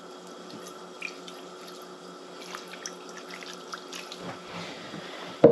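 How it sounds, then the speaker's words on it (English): Water is poured into a pan of browned ground meat before taco seasoning is added: a steady trickling, hissing pour that runs for several seconds, ending in a louder splash. "So I'm going to add some water to this."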